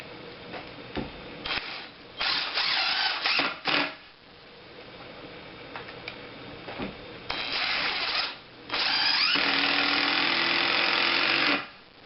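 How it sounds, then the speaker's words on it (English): A DeWALT 20V MAX 1/4-inch impact driver with a number 2 Phillips tip drives 2-inch drywall screws into wood, giving several close, buzzing bursts of rapid rattling impacts separated by brief pauses. "Let's drive some screws. This is a number 2 Phillips tip and a 2 inch drywall screw."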